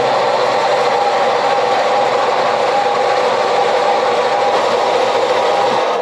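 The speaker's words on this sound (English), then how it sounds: "Got it thrown up in the bandsaw. We're going to go ahead and cut ourselves a piece" A bandsaw cuts through a section of exhaust pipe for a 6.0L swapped Silverado, giving a loud, steady, continuous grinding whine that holds without a break for the whole stretch, with no talking.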